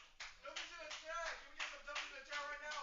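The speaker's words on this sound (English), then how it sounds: "The artist himself is clapping for his own drawing." Hands clapping several times in a quick, even rhythm, close and fairly soft, from an artist applauding his own drawing, heard alone without any talking.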